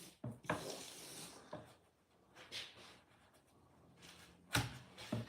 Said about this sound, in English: I'm gonna come in with 3/4 inch masking tape first